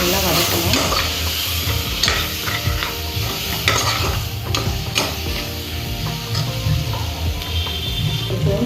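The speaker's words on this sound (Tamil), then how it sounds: "இதை போட்டு நல்லா வதக்கணும்." Steady sizzling of chili powder sautéing in a hot pan for tomato korma, with scraping and stirring clatter throughout, fairly close and continuous.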